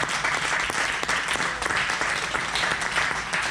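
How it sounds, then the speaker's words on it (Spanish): A church congregation at a Spanish-language worship service bursts into full, continuous applause, a thick wash of many hands clapping evenly from start to finish. "apláudale si le va a aplaudir"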